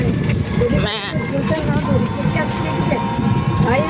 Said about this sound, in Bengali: গোটা রাস্তায় ছাগল